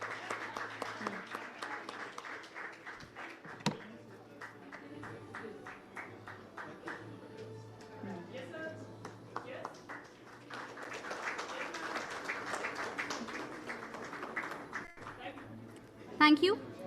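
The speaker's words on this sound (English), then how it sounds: "Big round of applause for Network 18." Applause at a water sustainability awards ceremony as an award is collected, a steady, moderate clapping across the room that fades midway and swells again, with a loud closer sound near the end.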